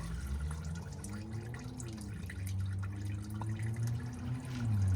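Fluid dripping onto the ground under a Volvo XC70 T6 during an oil and transmission fluid change, a faint steady trickle with low hum behind it and no talking.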